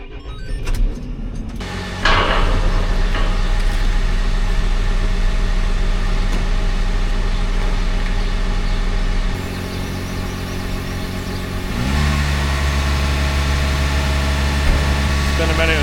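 A farm tractor engine runs steadily while pumping slurry out of a pit, a loud continuous low drone with a brief knock early on and a shift in pitch partway through, near and unbroken.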